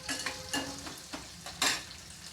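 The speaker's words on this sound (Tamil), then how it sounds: "நல்லா வெங்காயம் வதங்கி ப்ரௌன் கலராக வரட்டும்" Onions and cashews sauté in a pan for a cauliflower gravy, a soft sizzle broken by several stirring scrapes at irregular intervals, close and fairly quiet, with no voices.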